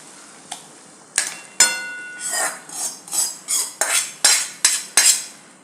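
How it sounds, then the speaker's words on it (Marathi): Cooked sprouted moth beans are tipped into a pan of roasted masala and stirred with a metal spoon, producing a rhythmic series of about ten scraping, clinking strokes against the pan, close and clear with no talking. "आता जी आपण मटकी शिजवून घेतली होती ती याच्यात घालून घ्यायची आहे"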